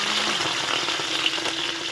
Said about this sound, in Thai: เอาปลาทูลงเลย น้ำมันเดือดแล้วห่อแล้ว ทอดไปเลยจ้า